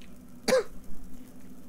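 A single short cough close by, sharp and throaty, followed by quiet breathing.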